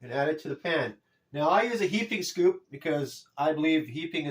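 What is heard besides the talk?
No everyday noise stands out behind the speech.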